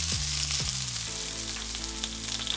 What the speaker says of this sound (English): Now add your chopped onion.